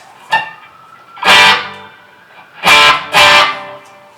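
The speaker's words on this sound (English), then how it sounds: "Boost, my first clean boost." An electric guitar plays through a tube amp set just at the edge of distortion, with a clean boost pedal engaged. Four loud strummed chords ring out with pauses between them, and no one speaks.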